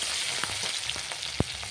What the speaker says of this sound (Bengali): টমেটোটা দিয়ে একটু নাড়াতে হবে